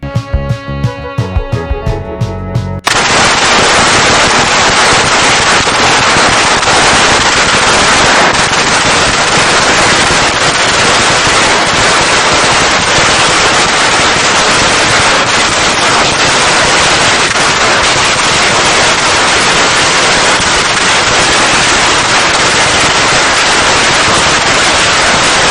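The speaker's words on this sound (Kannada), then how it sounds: "ಪಟಾಕಿ." A long string of firecrackers bursts as a sound effect: after a few scattered opening pops, a loud, dense, rapid crackle of explosions runs on continuously without pause.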